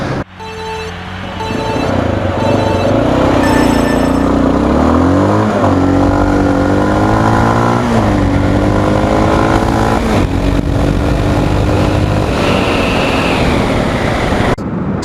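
A Honda NX 650 Dominator's single-cylinder motorcycle engine accelerates hard through rising revs, with a gear change partway through, then pulls steadily onward. It is loud and close throughout, with no talk.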